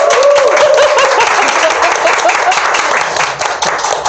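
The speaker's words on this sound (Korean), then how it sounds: "여러분들의 힘찬 박수로 시작하겠습니다" Studio audience at a reading talk show breaking into loud, sustained applause with cheering, dense clapping filling the whole stretch at close range before easing slightly near the end.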